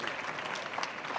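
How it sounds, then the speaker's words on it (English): A brief, steady patter of audience applause for the panelists at a COP15 session on desertification and biodiversity, moderately distant and even throughout. "Please give my panelists a warm round of applause"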